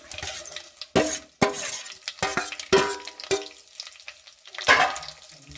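Sautéed ingredients hit hot oil with crackled curry leaves for a kanthari chili pickle, producing a loud continuous sizzle broken by repeated sharp clanks of a spoon stirring against the pan, close up, with no speech.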